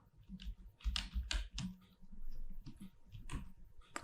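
Quick bursts of typing on a computer keyboard while coding an Angular unit test, keys clattering in uneven clusters with brief pauses, close and fairly soft with no talking.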